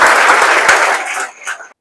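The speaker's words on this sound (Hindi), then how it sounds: "इसके लिए आप लोग जोरदार ताली बजा सकते हैं।" An audience claps loudly and densely for a student's JEE Main result, then the applause thins into scattered claps and stops.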